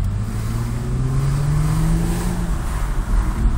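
Mercedes CLK 350 with 270 hp accelerating through city streets, a steady loud engine drone rising gradually in pitch under broadband road and wind noise, close up with no talking.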